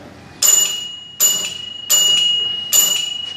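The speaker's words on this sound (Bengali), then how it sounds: "কলিং বেলটা বাজছে।" An electric calling bell wired to a switch and indicator lamps rings in four short, loud, bright chimes at even intervals, each sustained briefly before cutting off, close by with no talk.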